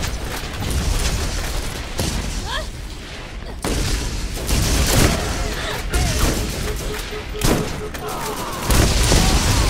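Rapid automatic fire from a Gatling turret in the video game Borderlands rattles continuously alongside booms and other gunfire, loud and dense throughout with brief gaps, and a voice talks over the battle.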